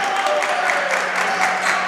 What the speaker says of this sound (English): Taylorville bench and Purple Rain clapping it up for the Tornadoes defense now